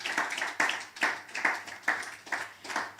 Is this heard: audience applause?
yes